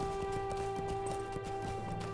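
A horse gallops in the online game Lord of the Rings Online, a steady, rapid run of soft hoof clip-clops over a droning steady tone, quiet and continuous with no talk.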